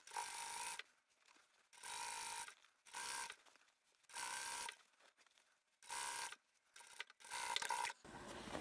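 Sewing machine top stitching all the way around an inside-out drawstring bag at a 3.5 stitch length, running in repeated bursts of steady rapid whirring with brief pauses between runs.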